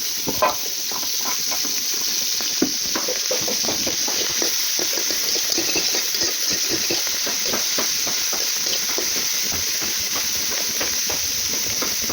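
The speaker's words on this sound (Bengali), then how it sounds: "লবণ হলুদ মাখিয়ে ভেজে নেব" Dried fish coated in salt and turmeric frying in hot oil, a continuous moderate sizzle and spatter with scattered crackling pops throughout.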